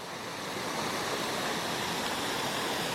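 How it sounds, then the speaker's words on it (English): Steady, loud rush of running water from a splash fountain at Disney Springs in Florida, a continuous broadband spray heard close by with no break and no talk. "Lincoln, do you want to run through this water?"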